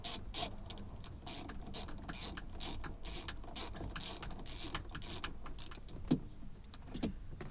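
A bolt is driven in with a ratchet during a gearbox install: a quiet, close, steady run of rapid rhythmic clicks lasting several seconds, ending with a couple of light metallic knocks.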